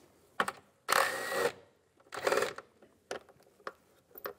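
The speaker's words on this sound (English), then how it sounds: "Remove this bolt. Use a 10 millimeter socket." Ratchet turning a 10 millimeter socket to remove a bolt on a 2010-2016 Cadillac SRX engine, heard as several close bursts of clicking with short pauses between them.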